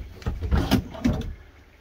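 A dresser drawer in the bedroom of a 2018 Forest River Sanibel 3790 fifth-wheel RV slides with two quick rumbling, thudding strokes up close, then fades into quiet.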